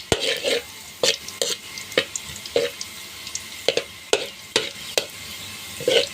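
Garlic frying in a pan as a spoon stirs it, with a steady soft sizzle under regular sharp scrapes and knocks against the pan about once a second, close up and with no talking.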